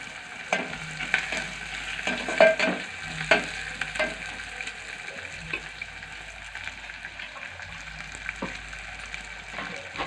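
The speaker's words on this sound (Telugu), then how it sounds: "నెక్స్ట్ గ్రౌండ్ నట్స్ వేసేయాలి." Groundnuts fry in a pan over a high flame, giving a soft continuous sizzle with occasional clinks and stirring scrapes close by.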